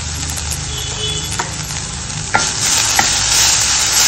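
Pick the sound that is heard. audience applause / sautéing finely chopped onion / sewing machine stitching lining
sautéing finely chopped onion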